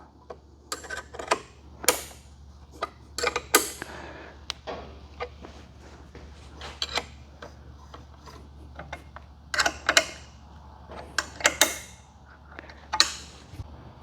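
A 12mm ratcheting wrench snugs up bolts on a Suzuki GSX-S1000GT+ motorcycle during helmet lock installation, sounding as bursts of quick close clicking separated by quiet pauses over a low steady hum.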